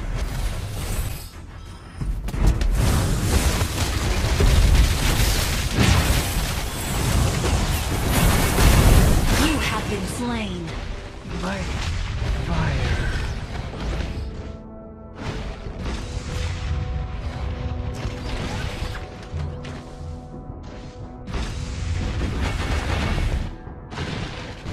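Dense, loud video game battle from a mobile MOBA match, with booming explosions as a turret is destroyed, layered with continuous effects, music and announcer-style voice lines throughout.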